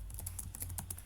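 Quiet, rapid clicking of keys on a computer keyboard as code is typed, a dozen or so light taps in an uneven rhythm over a low steady hum, close by.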